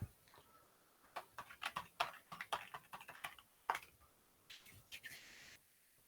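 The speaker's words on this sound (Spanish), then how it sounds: "Si oyen los teclazos muy fuertes, mil disculpas, tengo un teclado mecánico y los dedos muy pesados" Clacking keystrokes on a mechanical keyboard struck heavily, in irregular bursts of sharp clicks close to the microphone, with short pauses and no talk.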